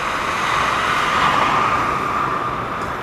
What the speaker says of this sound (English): There's another train going to Crewe from London.